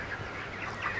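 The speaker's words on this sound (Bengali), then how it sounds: "মুরগিগুলার 2 কেজি চলে আসছে ওয়েট সবগুলা।" A flock of 33-day-old broiler chickens, each around 2 kg, clucks and murmurs continuously in a busy poultry shed, a dense, moderately loud chorus with no single bird standing out.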